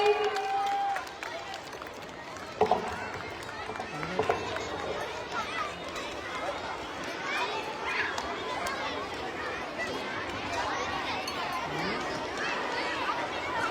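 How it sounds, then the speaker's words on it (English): Students at a school sports-day prize announcement cheer and clap as a continuous crowd roar, steady and fairly loud, with chatter mixed in and a few brief bumps near the start. "Give a huge round of applause, students. Keep clapping."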